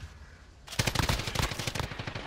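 A quiet pause, then a sudden burst of rapid automatic gunfire in Call of Duty: Modern Warfare multiplayer, dense sharp shots rattling continuously for over a second.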